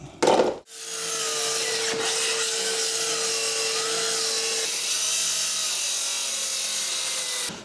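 A power saw cuts steadily through floor and trim during a flooring removal, a loud, continuous grinding rasp with a sustained whine, preceded by a short burst of noise at the start.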